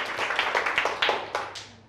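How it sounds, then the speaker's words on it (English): Classroom children clap for a pupil who answered correctly: a short burst of scattered hand claps that fades out within two seconds. "Clap for him."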